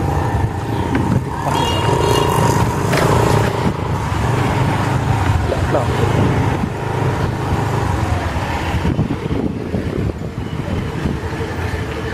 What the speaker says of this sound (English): Once the gate is open, all these vehicles rush towards ITPL in this direction.